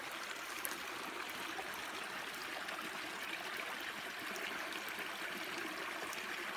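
Steady rushing and trickling of a creek swollen by March rain at a campsite, continuous and fairly close, with no voices.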